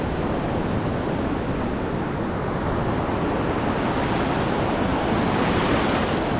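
Sea waves wash over a beach at El Nido in the Philippines, a constant, loud broadband roar of surf with wind buffeting the microphone and no voices.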